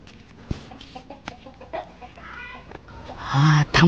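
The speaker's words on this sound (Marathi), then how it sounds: "राजाचं काय कोंबड्याला पकडतोय काय?" A rooster clucks and squawks as someone chases and grabs it, sharp close bursts of agitated calls rising in the final second, with scuffling and voices around it.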